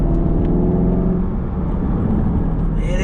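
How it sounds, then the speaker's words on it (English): A deep, rumbling V8 car engine runs steadily and loud throughout, with a throaty low growl and no pauses. "It is the meanest V8 growl."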